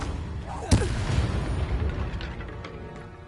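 A Confringo blasting spell from Hogwarts Legacy lands in one sharp, loud boom early on, followed by a rumbling tail and faint scattered crackles fading away.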